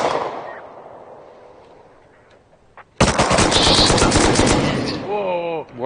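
An M249 machine gun in the survival game Rust opens up in a sudden, loud, sustained burst of rapid automatic fire after a quiet lull, the rounds hammering steadily for several seconds before a brief pause.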